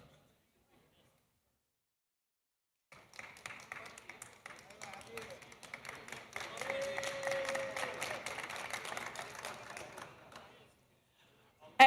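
An audience at a business forum breaks into applause after a short silence, a soft, dense patter of many hands that swells, holds for several seconds, then dies away.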